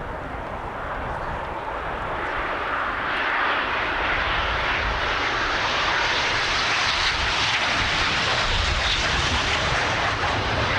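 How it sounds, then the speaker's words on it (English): RAF aerobatic team jets taking off in display formation at a 1989 airshow, a broad roaring engine rush that builds steadily and stays loud and sustained as the aircraft pass from left to right. "The team getting airborne now, from your left to your right, in the characteristic display takeoff."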